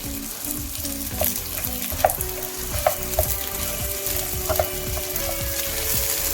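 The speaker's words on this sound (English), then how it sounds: "Now that it's gone a bit golden, I'm going to add in the onions" Onions frying in a pan of golden oil for a chickpea chana, a steady close sizzle with light scraping stirs and occasional clicks from the utensil, no voices.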